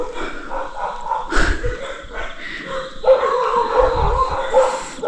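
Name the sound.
dog barking after chasing a fox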